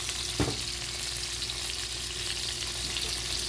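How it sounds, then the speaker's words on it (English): Steady frying sizzle from asparagus in a hot pan, a constant crackling hiss with a brief louder clatter near the start. "you can hear the sizzling sound as it cooks"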